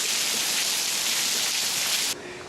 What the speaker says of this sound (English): just light rain, simple light rain.